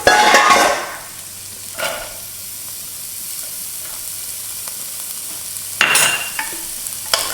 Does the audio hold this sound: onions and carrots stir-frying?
yes